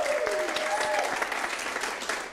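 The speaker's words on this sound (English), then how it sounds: "So we'll get kind of a nice little rolling applause." A live audience at a showdown event keeps up a loud, steady round of clapping throughout, a dense continuous patter that fills the space with no voices clearly standing out.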